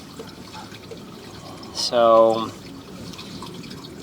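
Water drains and fills inside a sewer pipe at a T-junction during a camera inspection: a brief gurgling, pouring burst rises near the middle over a low background hiss, and a voice speaks briefly.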